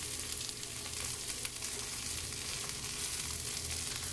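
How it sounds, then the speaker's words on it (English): Garlic frying in a pan as it is stirred, producing a faint, constant sizzle with soft scraping throughout, and no voices. "Let's stir that around a little bit."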